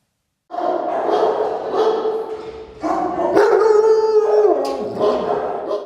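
Several dogs at a Kryvyi Rih animal shelter, among them large breeds such as Alabai, shepherds, St. Bernards, malamutes and huskies, bark, yip and howl together in a loud, continuous chorus with no talk.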